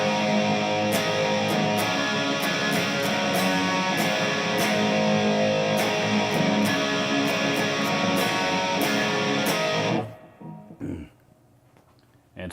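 Electric guitar plays the chorus riff, loud, dense and continuous for about ten seconds with rhythmic accented strums, then cutting off into a short quieter tail.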